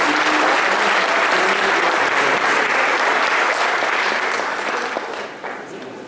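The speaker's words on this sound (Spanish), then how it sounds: "Y pues un aplauso para Pedro." Steady audience applause after a talk on technology neutrality, a dense crowd clapping loud and continuous for several seconds before tapering off at the end.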